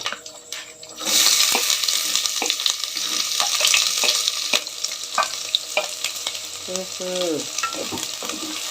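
Onion and green chilli frying in a pan for noodles, a steady loud sizzle with scraping stirs throughout, close by, with brief clinks and no one talking over it.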